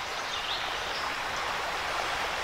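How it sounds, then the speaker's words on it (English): Creek water flowing beneath a covered bridge in Pennsylvania, a steady broadband rush that stays even and fairly close throughout, with no voices. "Yeah, beautiful creek down here."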